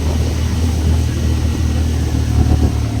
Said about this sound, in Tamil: வண்டி திணறிட்டு இருக்காங்க கைஸ்